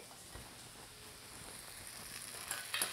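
Potatoes cook in a pan of lamb fat for thyme roasted lamb chops, giving a low, steady sizzle with light crackles and a few stirring scrapes that grow a little louder toward the end.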